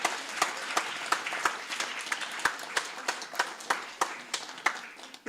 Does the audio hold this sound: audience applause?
yes